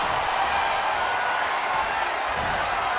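Arena crowd noise from the WWE 2K22 wrestling game, heard during a Hardy Boyz vs RVD & Billy Kidman SmackDown tag team title match: a steady, dense roar of cheering spectators that holds at full level throughout.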